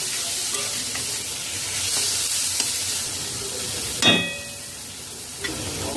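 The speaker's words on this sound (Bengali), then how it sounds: "ফেটানো টক দই এক টেবিল চামচ দিয়ে দেব লো ফ্লেমে নাড়াচাড়া করে নিতে হবে" Spices stirred with beaten sour curd in a pan over a low flame, a steady sizzle and hiss with scraping strokes of the spoon, close and fairly loud, with a sharper burst of sizzling partway through.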